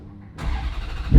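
Ferrari F430 Spider engine firing up, a sudden start after a near-silent moment that swells into a loud, deep rumble within a second.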